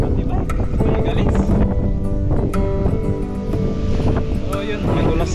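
Strong gusting wind roars continuously against the microphone during a mountain road bike ride from Kayapa to Sta. Maria, loud and buffeting throughout, with a voice talking over it.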